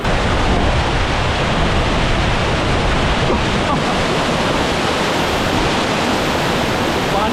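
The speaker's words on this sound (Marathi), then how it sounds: "जोरात हा वॉटरफॉल" A roaring waterfall in dense jungle on a monsoon trek at Malshej Ghat, heard as a loud, steady, broadband rush of falling water that continues unbroken throughout.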